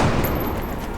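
A soldier's weapon fires at a sectoid in the XCOM game, a loud, dense burst of gunfire filling the whole brief moment and decaying slightly toward the end, with no talking.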